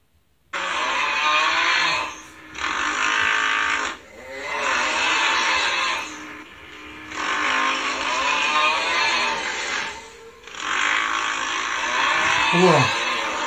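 A woman imitates loud snoring with her voice while lying beside her husband, making five long, rasping, motor-like bursts separated by short breathing pauses.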